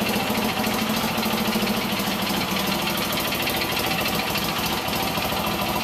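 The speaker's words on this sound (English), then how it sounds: "This is a Polaris Ranger, four-wheel drive, six passenger with a dump bed, 700 twin." A 2008 Polaris Ranger 700 twin utility vehicle, a four-wheel-drive six-seater with a dump bed, idles nearby in a steady, even low rumble that carries on alone without speech.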